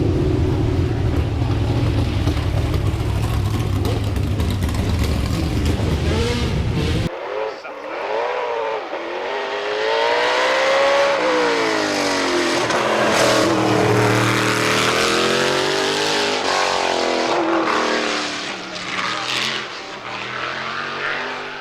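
A race car engine at the Goodwood Festival of Speed roars loudly, revving up and down in sweeping pitch changes, with a heavy rumbling start before the high-pitched whine takes over.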